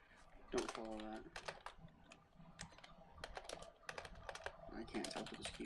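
Keys clatter in quick irregular bursts on a computer keyboard during a podcast, close and fairly quiet, with a voice speaking briefly in places.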